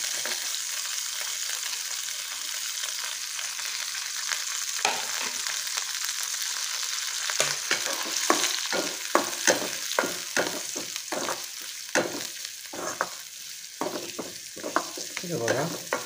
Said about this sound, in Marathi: आणि नंतर कांदो घालून घेतो पहिला